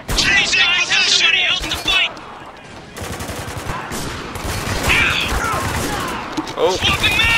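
Gunfire rattles in the shooter game Spec Ops: The Line, with bursts of automatic rifle fire and sharp shots crackling loudly while shouted voices cut in at the start and end.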